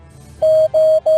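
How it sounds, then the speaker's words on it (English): Steady Morse code tones from amateur radio, three long beeps at the same pitch separated by short gaps, loud and clear over a faint low hum. "This sequence of Morse code characters is part of our radio history here in WA."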